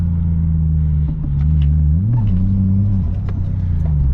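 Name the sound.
car engine while driving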